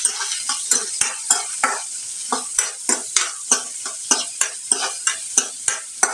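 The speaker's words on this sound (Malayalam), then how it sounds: "നമുക്കൊന്ന് വഴറ്റി വെക്കാം." Chopped onions sauté in hot oil with mustard seeds, stirred in a quick, even rhythm of about eighteen scraping strokes over a constant close, crackling sizzle.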